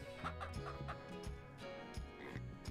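Chickens cluck in the Ranch Simulator farm game, a steady run of repeated clucks over a continuous tonal background with no talking.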